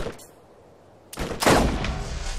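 Burst of gunfire in the video game Borderlands, starting after a quiet stretch and continuing loud and dense to the end, with several rapid shots running together.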